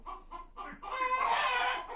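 Hens in a henhouse cluck close by, a few short clucks followed by a longer, louder drawn-out cackle, fairly quiet overall.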